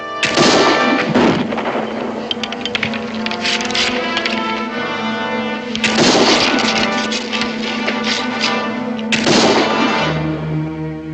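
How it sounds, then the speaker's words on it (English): Rifle shots ring out in an old frontier-style drama, three sharp loud cracks spaced a few seconds apart, each followed by a lingering ringing decay. "I never expected to see the day when I could fire more rapidly than you, Daniel."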